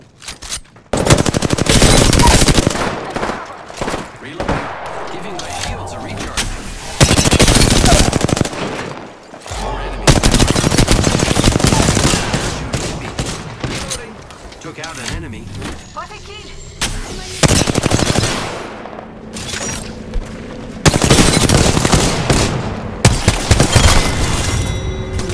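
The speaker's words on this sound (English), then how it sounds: "Opening fire on the enemy." Heavy video game gunfire comes in long rapid bursts of machine gun and rifle shots with booming impacts, loud and close, separated by brief lulls with a voice speaking under the action.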